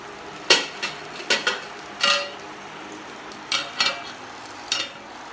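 Intermittent metallic scrapes and clanks of a spatula stirring onions in an iron kadai, a handful of sharp strokes over a low, steady sizzle.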